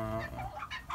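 Broiler roosters on a farm give a short burst of soft, close clucking, alone and fairly faint.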